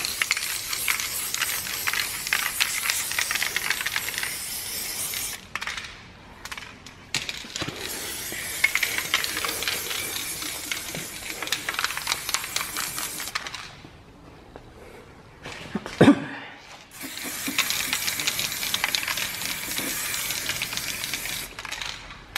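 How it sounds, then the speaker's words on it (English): Undercoating is sprayed onto a car being prepared for drag racing tech inspection, a steady airy hiss broken by short pauses and a sharp burst near the end, close and fairly loud. "Some nice undercoating going on out here."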